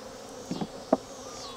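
Honey bees buzzing around a hive that is being robbed, a faint steady hum with a couple of brief louder buzzes as single bees pass close.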